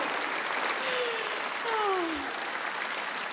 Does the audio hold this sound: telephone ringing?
no